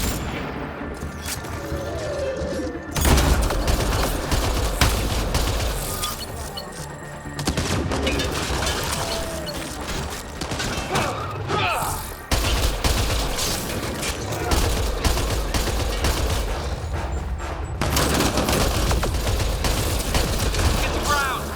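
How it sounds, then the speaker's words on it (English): Sustained gunfire from a firefight in Mass Effect Andromeda: dense bursts of rapid shots and booms, loud and continuous across the stretch, with clanking mechanisms and occasional shouted voices in the mix. "Enemy fire!"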